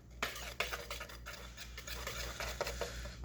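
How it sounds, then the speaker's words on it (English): Whisk scraping and tapping through muffin batter in a bowl for blueberry bran muffins, close, continuous rhythmic stirring with sharper clicks against the sides over a low steady hum. "Whisk this together."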